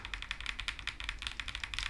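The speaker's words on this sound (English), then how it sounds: "the actual typing experience is enhanced by its gasket mount and plate design that kind of gives it this, nice sound to it" Typing on a Kiiboom Phantom 81 gasket-mount mechanical keyboard with a plate design: a steady, close stream of crisp keystrokes clacking in a quick, slightly uneven rhythm, with no voices.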